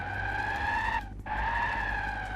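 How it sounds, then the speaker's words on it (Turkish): A car skids in the MTA multiplayer driving game, a loud continuous tire squeal with two steady tones over engine rumble, broken by a brief dip in the middle before it resumes. "Öyle, çev öyle çevirse tabii zaten araba kayacak."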